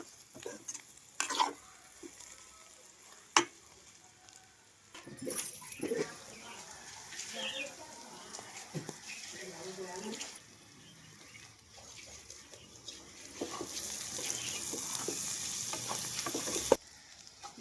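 Ivy gourd fries in a pan with a low sizzle, interrupted by stirring scrapes and clinks of a spoon, close and fairly quiet.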